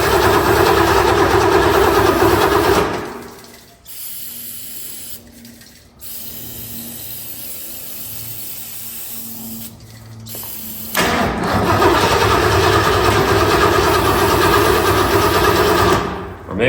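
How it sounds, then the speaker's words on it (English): A 1966 Lincoln engine cranks hard after being primed with carburetor cleaner but does not fire: loud, steady mechanical churning that stops briefly partway through and then resumes, with no talking. "I'm just gonna try and fire this thing off with some carb clean"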